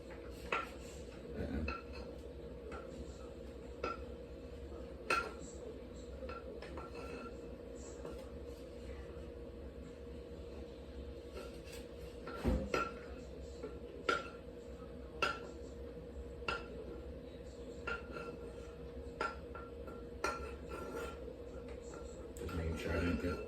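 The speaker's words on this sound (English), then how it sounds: "take your skillet, take your spatula, move it over the plate, and dump your eggs on it" Spatula scraping scrambled eggs from a skillet onto a plate, with sporadic light metallic clinks and taps spread over a quiet kitchen background.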